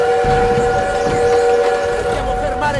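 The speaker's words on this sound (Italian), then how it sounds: "Dobbiamo fermare quel treno!" Train in the World War II shooter Call of Duty WWII, a loud sustained whistle tone over rumbling rail noise and engine clatter, continuous throughout.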